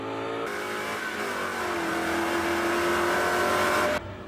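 Veritas RS3 race car winding up hard out of a corner, a loud, steady engine roar climbing in pitch as it accelerates, close and continuous, then easing off abruptly at the end.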